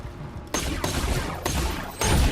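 Machine gun fire in the video game Borderlands 2, dense rapid bursts of shots in several loud continuous volleys separated by brief breaks.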